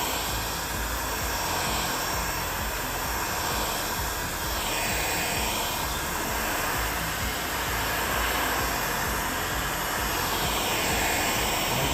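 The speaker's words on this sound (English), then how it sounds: "I'm just going to heat this panel up a bit." Steady loud blowing roar of a heat gun warming a car body panel ahead of paintless dent repair, continuous and close for the whole stretch with no talk.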